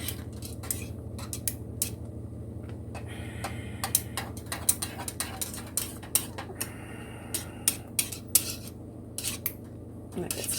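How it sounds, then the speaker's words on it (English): Homemade chocolate sauce being stirred in a pot, a utensil clinking and scraping against the metal in an irregular run of close, sharp taps over a steady low stovetop hum. "My hand is getting tired of stirring."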